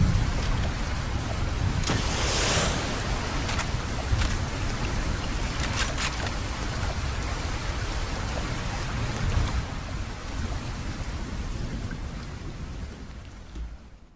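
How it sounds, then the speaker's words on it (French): A Roblox Studio rain system with thunder, a loud, steady hiss of heavy rain with low rumbling thunder running throughout and a few crackling bursts, no talking. "je vais vous montrer comment créer un système de pluie dans Roblox Studio"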